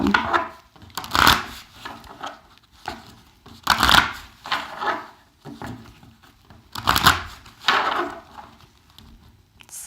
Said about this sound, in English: So I'm going to shuffle a couple more times